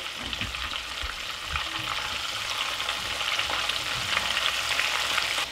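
Sweet potato fries deep fry in hot oil, giving a steady dense crackling sizzle that holds close and moderately loud, with no voices.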